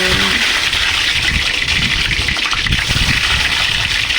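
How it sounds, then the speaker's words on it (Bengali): Eggs dropped into hot mustard oil and frying, a steady loud hiss and crackle running throughout with no talking. "এখন আমি ডিমগুলোকে একটু করে এখানে ছেড়ে দেব"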